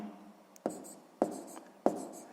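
Handwriting on paper during a sixth-grade maths lesson, with three sharp pen taps and short strokes spaced evenly, close and fairly quiet, without talk.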